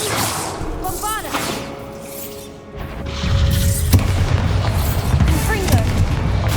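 A Bombarda blasting spell in Hogwarts Legacy, cast in combat: a whooshing cast followed by a loud, close booming explosion, with the rumble carrying on beneath ongoing battle noise and a voice.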